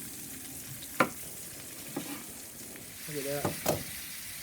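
Rib-eye steaks frying in a pan with herb butter, a soft steady sizzle under brief speech, broken by a few sharp clinks of utensils against the pan.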